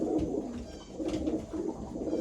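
A racing pigeon held by hand for beak dosing gives low, steady cooing close up, a continuous soft throaty murmur without pauses.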